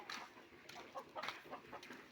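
Faint, distant chickens cluck in short, scattered bursts against a quiet outdoor background as they are herded back into their coop.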